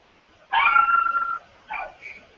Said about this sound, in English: If you can hear that, that's my dog barking.